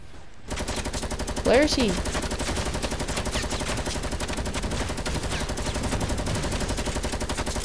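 Rapid gunfire bursts from a PS4 shooter game rattle continuously under a voice, with a brief louder moment early on.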